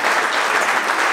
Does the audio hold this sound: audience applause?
yes